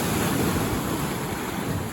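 Ocean surf rolls onto a beach in a continuous broad wash of water, steady and fairly loud, with wind buffeting the microphone and no voices.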